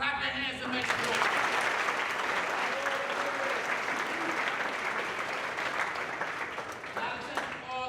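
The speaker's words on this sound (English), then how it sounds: "Clap your hands and make some noise." Audience at a college-bound scholars event at Marquette University breaking into loud sustained applause and cheering, a dense wash of clapping that holds for several seconds before starting to thin out.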